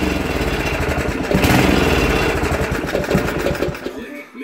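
A Poulan Pro 800 Series 26-inch walk-behind tiller engine runs rough up close, its loud, uneven chugging pulsing and surging irregularly before cutting down at the end.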